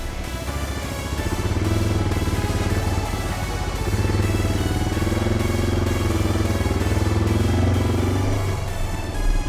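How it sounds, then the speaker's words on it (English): A Suzuki DR650 dual-sport motorcycle rides off-road over rocks near a New Zealand beach, its single-cylinder engine droning steadily and loudly up close with rising and falling revs and no talking. "time to do some rock climbing as well with a motorcycle"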